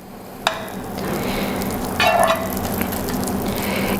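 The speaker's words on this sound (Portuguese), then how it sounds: "Eu vou derreter a manteiga" Butter melting in a frying pan, giving a steady close sizzle with a brief louder hiss and a couple of light clinks of a utensil against the pan.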